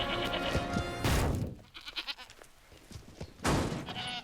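Goats bleat loudly in a TV commercial, one long wavering cry at the start, quieter shuffling and thumps in between, then another loud bleat near the end, with no talking.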